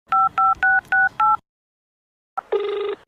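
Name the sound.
telephone dialing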